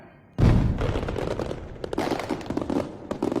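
A rapid burst of sharp explosive pops and bangs, crackling loudly and continuously after a brief quiet start, with no voices.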